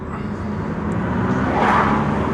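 An Audi Q3 pulls away in first gear, its engine note rising steadily and fairly loud from inside the cabin, with road and wind rumble underneath and no talking.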